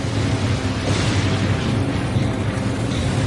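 Thunder from a storm over Chicago, a continuous deep rumbling roar that fills the whole stretch at steady loudness with no distinct separate cracks and no voices.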